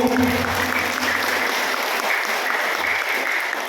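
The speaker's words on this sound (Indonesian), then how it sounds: "Tepuk tangan buat Pak Kades Sarwono Ibu." A crowd at a district-wide Islamic religious gathering in Marangkayu applauds the village head, a dense, steady wash of clapping that fills the whole stretch, with a voice briefly audible near the start.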